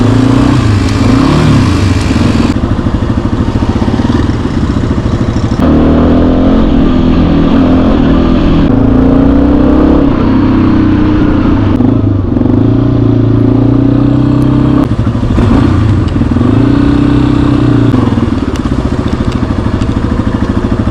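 A Yamaha motorcycle being ridden on a road in Morocco, its engine droning loud and steady throughout with repeated rises and falls in pitch as it revs and shifts gears, with no talking.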